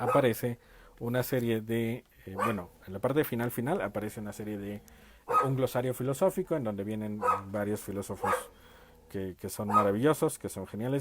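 Pet dogs bark inside a home, intermittent and mostly buried beneath a person talking steadily throughout.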